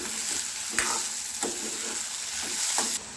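Spoon stirring chitranna (lemon rice) with grated coconut and coriander leaves in a pan, giving soft scraping strokes every half second or so over a faint steady sizzle, close and alone.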